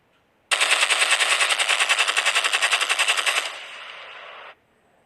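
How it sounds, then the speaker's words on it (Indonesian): A sound effect of a machine gun fires a long, loud, rapid burst of evenly spaced shots, then a quieter fading stretch before cutting off abruptly, with no voices. "Terdengar dari jauh suara tembakan saling bersautan"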